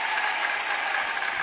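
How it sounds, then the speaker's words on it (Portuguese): An audience at a talent show claps for a boy singer who performs in Portuguese and Guarani: a dense, steady wash of applause, loud and unbroken for the whole short stretch. "palmas para ele"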